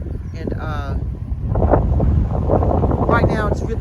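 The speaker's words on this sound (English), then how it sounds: "right now it's really windy out here" Strong wind gusts across open, treeless land near an old mining town, roaring steadily as a low rumble and buffeting the microphone, with a voice partly heard under it.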